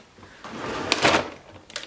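A makeup drawer in a blush and highlighter organizer is shoved shut, giving a short scraping slide and a bump that seems to catch rather than close smoothly, close to the microphone.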